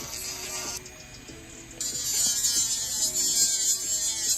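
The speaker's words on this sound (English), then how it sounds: "use the sanding band instead of a carbide bit" Electric nail file with a sanding band buffing acrylic nails, a thin high-pitched whine that shifts in pitch as pressure changes, close and fairly quiet, with no voices.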